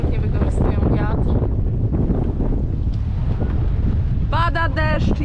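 Strong coastal wind buffets the microphone at the East Head anchorage, roaring and gusting continuously and loud throughout, with voices talking beneath it.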